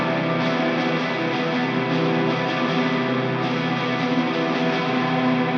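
Shoegaze electric guitar with distortion and echo plays a short pattern with a small pull-off for variation, a continuous saturated wall of sound at steady loudness, no talking.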